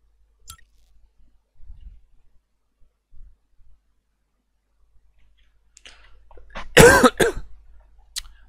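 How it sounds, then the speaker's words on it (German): A single sharp, close cough bursts out after several seconds of near silence broken only by faint clicks and small mouth noises, with a brief throaty trail after it. "Ich habe immer noch Husten."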